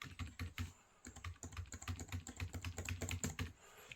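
Close, steady typing on a Perixx PERIDUO 613B wireless chiclet keyboard, a soft continuous patter of key presses lasting a few seconds, quiet and without speech.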